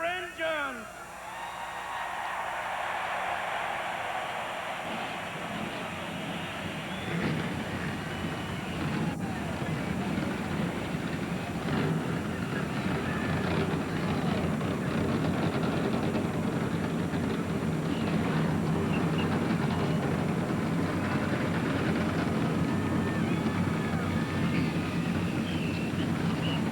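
NASCAR stock car engines fire up together at the 1998 Coca-Cola 600, forming a sustained, broad roaring rumble that swells and thickens over time, heard from a distance with wind buffeting the microphone.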